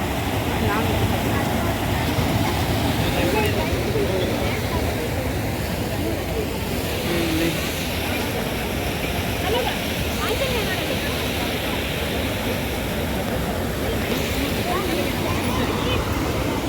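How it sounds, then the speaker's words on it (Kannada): Steady rushing water flows continuously, with a crowd's murmur and scattered voices mixed in throughout. "ಇಲ್ಲಿ ನೋಡಿ ನೀರು ಹೇಗೆ ಹರಿತಾ ಇದೆ ಅಂತ."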